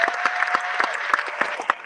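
An audience at a closing keynote gives steady, dense applause with individual claps popping out near the front and a faint whistle-like tone running underneath.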